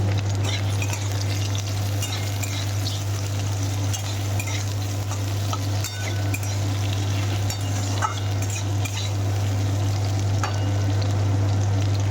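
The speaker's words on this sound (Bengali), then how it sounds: "একটু ভাজা হবে ভেজিটাকে একটু ভাজবো" Mixed vegetables, including cauliflower, beans and capsicum, sizzle and crackle while frying in a pan, with intermittent stirring scrapes and faint utensil clinks, close and steady throughout.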